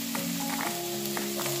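Onions and garlic paste fry in a hot pan with a steady, close sizzle that holds even and unbroken for under two seconds, with no talking.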